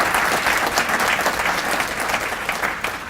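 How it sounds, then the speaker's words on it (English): Sustained applause from an audience at a Paramount Chamber of Commerce State of the City address, steady and dense throughout, with no talking over it. "So please, big round of applause"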